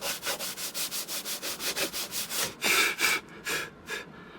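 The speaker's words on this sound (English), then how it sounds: "now that's one wing sanded" A wooden Chuck It glider wing being sanded by hand: a steady run of rhythmic back-and-forth rasping strokes, close and clear, with a few heavier, longer strokes near the end and no talk.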